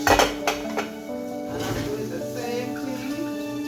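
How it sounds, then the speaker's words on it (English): Metal pots and pans clank and clink in a sink, a few sharp knocks up front followed by softer scraping and rattling. "so now I only have the pots"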